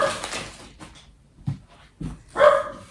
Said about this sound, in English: that's Sven is barking right now